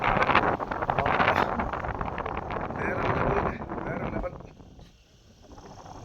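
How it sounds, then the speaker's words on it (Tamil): Strong wind gusts through a mountain pass at the Seekuparai viewpoint in the Kolli Hills, buffeting the microphone with a loud rushing roar that eases near the end. A person talks over it. "அங்கேருந்து வரக்கூடிய அத்தனை காற்றும் இந்த கணவாய் வழியாக தான் அதாவது இந்த பக்கமும் மலை இந்த பக்கம் மலை நடுவில் இருக்கக்கூடிய இந்த வழியாக பயங்கரமாக அடிக்கிறது"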